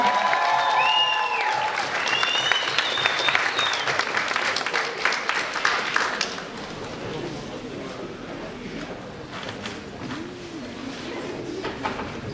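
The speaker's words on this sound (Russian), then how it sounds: "Бурные аплодисменты." Students and guests at a university spring festival for the history faculty applaud the dean as he is called to the stage; dense clapping mixed with crowd noise and some music fills the first half, then thins to softer scattered claps.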